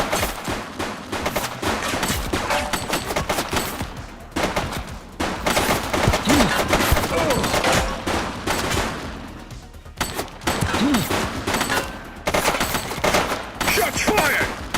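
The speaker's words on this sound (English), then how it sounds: "Shots fired!" Loud, close gunfire erupts in the PS5 police game The Precinct, with repeated rapid bursts and volleys separated by brief pauses over about fifteen seconds.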